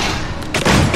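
Gunfire in the Space Hulk: Tactics video game, a short loud burst of shots that thickens toward the end of the brief clip, with no voices over it.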